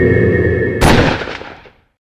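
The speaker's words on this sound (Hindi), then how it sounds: "गुस्से में गोली चल गई" In a crime drama, a single gunshot is fired in anger. It cracks sharply over a low droning bed, then its echo tails off into silence.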